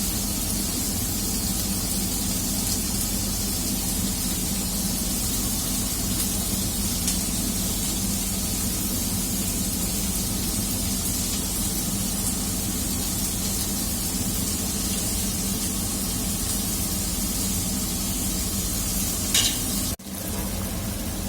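Steady broadband bubbling and hiss of mung bean soup at a rolling boil in a pot, continuous and close, with a brief clink near the end.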